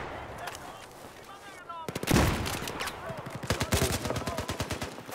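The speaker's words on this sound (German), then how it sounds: "Von links Beschuss." Gunfire in the shooter game Metro 2014 crackles in bursts and rapid rattling volleys at moderate distance, with a louder blast midway and voices talking faintly underneath.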